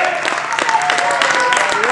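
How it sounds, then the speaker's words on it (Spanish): Congregation applause during a church service, a steady crowd of clapping hands filling the room with voices and sung or spoken tones layered over it. "dale aplauso al que vive"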